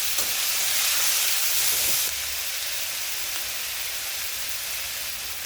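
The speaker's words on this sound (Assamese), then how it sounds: "আৰু এতিয়া এড কৰিছোঁ মই মছলাখিনি, আদা, নহৰু, পিঁয়াজ আৰু শুকান জলকীয়াৰ পেষ্ট" A paste of ginger, garlic, onion and dried chili frying in hot oil for a jackfruit seed and fish curry sizzles steadily and up close, briefly louder at first, then settling into an even hiss.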